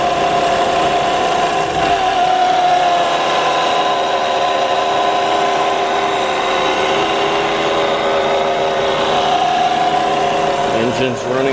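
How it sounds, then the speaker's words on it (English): A 2006 Volvo S60 engine idles steadily with a continuous, even hum and slight vibration, heard close and fairly loud throughout, with a brief clunk near the end. "Engine's running good."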